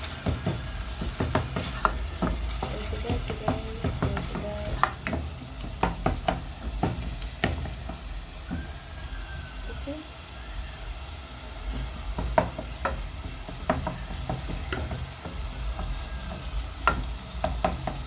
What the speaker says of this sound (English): Let me stir now. Let me stir very nicely like that.